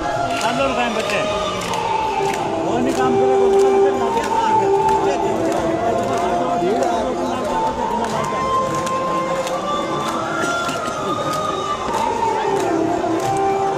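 Dense crowd of devotees packed at the Khatu Shyam temple, a continuous loud hubbub of many voices with shouts and chatter filling the space throughout.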